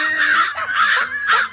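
A crow caws three times in quick succession, loud and close, each harsh call rising and falling, with nothing else around it.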